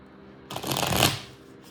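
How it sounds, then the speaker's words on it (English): A deck of tarot cards gets one quick, close shuffle, a short crisp riffling rush that swells and then fades out. "One more shuffle and a shake."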